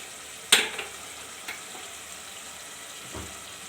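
Mutton chilli fry sizzles in a pan, a steady hiss of frying with a sharp stirring scrape near the start and a couple of softer knocks later.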